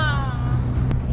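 A boat on a bumpy ride back in the US Virgin Islands, with a steady loud engine drone and wind rumble; a whining tone fades early and a brief thump lands near the end.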